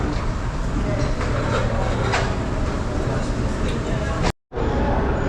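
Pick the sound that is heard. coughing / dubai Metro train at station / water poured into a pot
dubai Metro train at station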